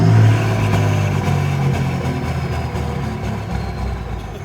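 A 5.9 Cummins diesel engine with a runaway problem that puffs blue smoke gets one quick throttle blip: the engine roars up at once, then its deep rumble slowly sinks back toward idle.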